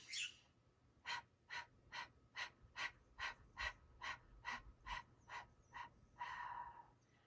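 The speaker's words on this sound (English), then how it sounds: "I'm going to feel that powerful breath of fire." Breath of fire yoga breathing, about a dozen quick, even, forceful nasal exhalations in a steady pulsing rhythm, close and clear with no talking, ending in a longer breath.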